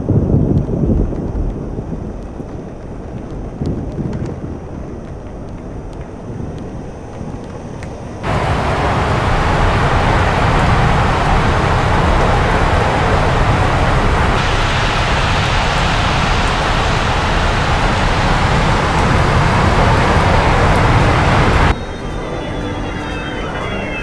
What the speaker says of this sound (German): Bis hier höre ich die Motoren.